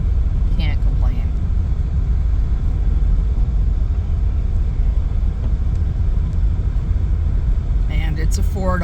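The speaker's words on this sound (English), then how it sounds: "I will happily drive this little car." A small, affordable car drives along with a steady low engine rumble and road noise from inside the cabin, continuous and fairly loud throughout.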